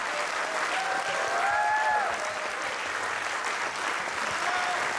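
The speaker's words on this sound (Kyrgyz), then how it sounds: "Баракелде кол чабуулар, кол чабуулар, кол чабуулар." Sustained crowd clapping in a concert hall after a traditional folk instrument ensemble, loud and continuous, with a brief whistle or raised voice rising above the claps.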